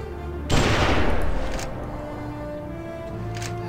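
Enemy gunfire in the video game Gun: a loud burst of shots sets off a sharp blast, then rattles on and slowly fades under a sustained game background.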